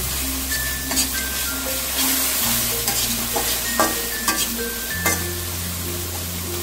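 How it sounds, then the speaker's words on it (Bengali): Green chili, ginger and garlic spice paste frying in a pan, a steady close sizzle with scraping stirs and occasional utensil clinks throughout, no voices. "দিয়ে আমি মশলাগুলো একটু কষিয়ে নেব।"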